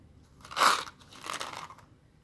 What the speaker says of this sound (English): I'm gonna finish chewing this one.